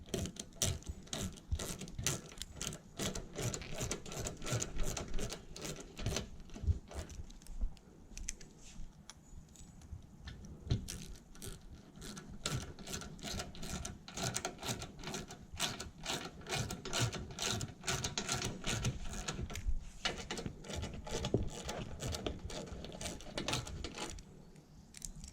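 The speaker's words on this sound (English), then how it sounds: "take your 10mm socket and just tighten them down and install the other ones" A 10mm socket ratchet tightens screws into plastic anchor points on a 2013-2020 Ford Fusion 2.0L EcoBoost, rapid clicking pawl bursts repeating in quick runs with brief pauses, close and continuous with no talking.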